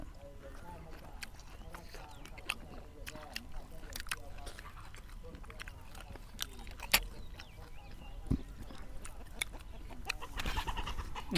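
Chickens squawk and cluck in agitated bursts as a dog attacks one, somewhat distant, while people talk over the commotion.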